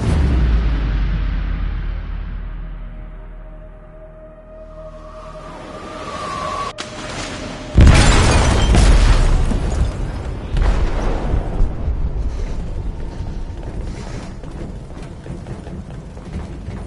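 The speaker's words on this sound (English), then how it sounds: "They detonated an explosive in the hold." An explosive goes off in a ship's hold in the video game Detroit: Become Human. A low rumble and faint tones build up, then one loud, sudden blast breaks out, followed by a long, roaring, noisy aftermath.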